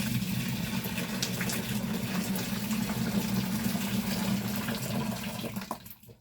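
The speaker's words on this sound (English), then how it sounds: "Let's add a bit of hot water to here." Hot water pours steadily into a home-brewing fermenter for an XPA clone brew made with liquid malt extract, a continuous close rushing splash that fades out near the end.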